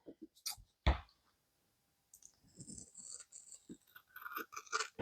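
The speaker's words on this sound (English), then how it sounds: "all I'm doing is taking my scissors in here and I'm cutting along the edges to cut this out" Scissors cut along the edges of a paper cutout for a page-wrapping pocket, making close, irregular snips and crisp paper rustles with short pauses between bursts.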